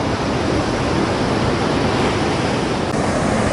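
Ocean surf breaking on a beach, a steady loud broadband wash of crashing waves that fills the whole stretch without pause, with no voices over it.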